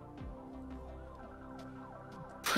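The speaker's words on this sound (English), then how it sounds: "I can already hear the siren." In the police game Police Stories, a police siren wails in repeated rising and falling sweeps, fairly distant and moderately quiet, before a sudden louder noise at the end.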